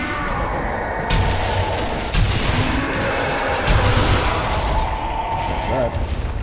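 Machine gun fire and heavy gunshots in the video game Sniper Elite: Nazi Zombie Army, several loud bursts and booms spread across a busy battle din, with people talking over it.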